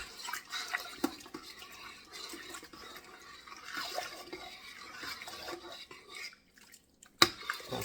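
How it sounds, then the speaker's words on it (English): Four quarts of crawfish broth poured into a pot, a steady faint splashing and trickle of liquid that runs for several seconds before a brief pause and a final clink. "You can see I got 4 quarts I'm dumping in right now."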